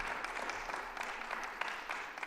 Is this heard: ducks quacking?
no